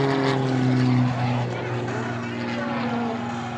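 A propeller-driven aerobatic plane at an air show drones loudly and steadily through a maximum-performance roll, with a commentator talking over the engine throughout.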